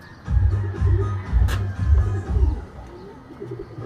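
A homing pigeon coos close by, a run of low, throaty coos in a steady rhythm that trails off toward the end.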